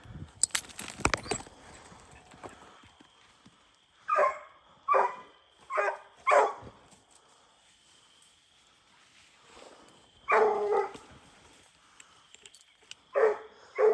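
A hunting dog barks in the woods at night, a handful of loud, separate barks in two bursts with quiet gaps between, after a brief rustle at the start.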